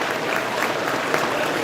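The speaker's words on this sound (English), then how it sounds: "They deserve a round of applause for their dedication to" Sustained applause from a gala audience fills the room, a dense, steady wash of many hands clapping at even loudness throughout, with no voices over it.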